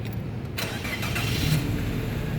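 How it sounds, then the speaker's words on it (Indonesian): A 2014 Daihatsu Sirion 1.3 D automatic hatchback starts up: a short cranking burst followed by the engine catching and settling into an even idle, heard close up with no voices. "Sekarang kita coba start mobil ya."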